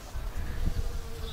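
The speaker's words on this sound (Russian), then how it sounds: "Пчелки уже работают." Bees buzz around freshly opened flowers in a rain-soaked Kuban garden with a low, wavering hum close to the microphone. The hum swells briefly in the middle, then carries on softly outdoors.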